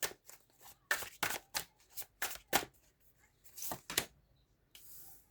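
Tarot cards being shuffled and handled: a series of crisp, riffling card bursts in uneven rhythm, close and fairly quiet, with short pauses between them and no talk.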